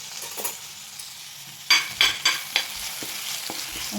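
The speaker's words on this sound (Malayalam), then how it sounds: "നന്നായിട്ടൊന്ന് മൂത്ത് വരട്ടെ." Curry leaves fry and sizzle in a pan, softly crackling beneath several sharp scraping stirs of a utensil against the pan, close up and with no talking.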